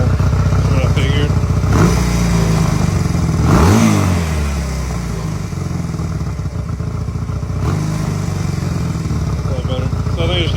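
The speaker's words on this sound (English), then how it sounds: "Now it's starting to warm up and it seems like it's running a lot better." A 1985 Honda Rebel bobber engine runs steadily after an idle adjustment, loud and close, with the old carbureted bike holding a rough idle and giving a few brief throttle blips. Someone talks over it.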